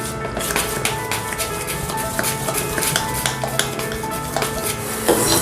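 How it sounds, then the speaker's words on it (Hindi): A spoon stirs salt into rava idli batter in a steel bowl, with continuous close clinking and scraping that grows busier toward the end, no speech. "इसमें नमक डाल देते हैं, मिक्स कर देते हैं।"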